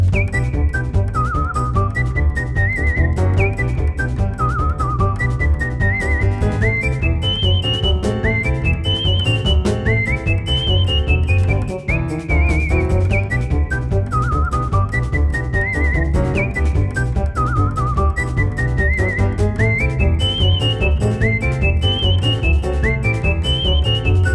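A lively melody whistled continuously over a steady instrumental backing in Minecraft, the tune rising and falling in repeated phrases with a brief dip midway.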